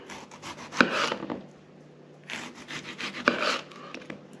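A knife cuts tomatoes on a wooden board in two short bursts of close, scraping strokes, split by a pause, with no talking.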